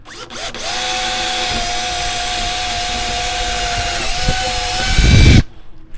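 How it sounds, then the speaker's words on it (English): A power drill bores through a wooden door for a doorknob and deadbolt replacement, whining at a steady, loud pitch for about five seconds before cutting off abruptly. "Anytime you're drilling through wood or fiberglass"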